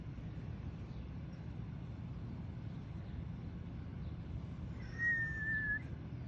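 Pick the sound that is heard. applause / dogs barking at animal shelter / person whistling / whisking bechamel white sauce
person whistling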